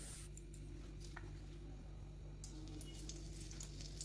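Cardamom pods and a bay leaf fry in hot ghee in a wok, giving a soft, steady sizzle with faint crackles and occasional stirring scrapes, close and quiet, under a low background hum.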